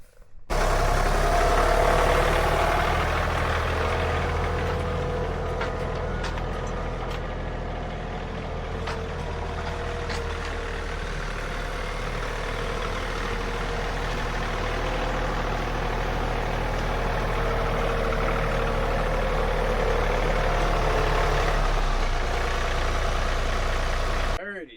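A steady, rumbling tractor engine idles continuously at close range, a low mechanical drone that stays even throughout with faint clicks and rattles.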